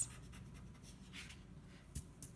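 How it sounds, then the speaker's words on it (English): A pencil drawing of cylinders is erased on paper with a soft, continuous rubbing scratch, faint and close, with a couple of slightly sharper strokes near the end. "Then I'm gonna go ahead and erase."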